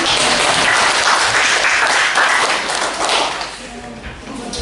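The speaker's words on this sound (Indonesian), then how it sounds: "Kita berikan tepuk tangan." Applause from a class or audience in a teaching session: a dense burst of clapping that is loud at first and then gradually thins and fades toward the end.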